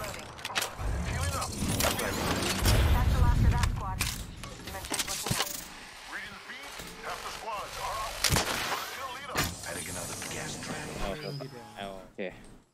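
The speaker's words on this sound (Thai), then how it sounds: "ตะ กี้ได้ยินเสียงปืนอ่ะ" Scattered gunshots and heavier blasts in a ranked online shooter match, with sharp isolated reports at irregular intervals, some close and loud, others more distant, amid rumbling game ambience and mechanical clicks.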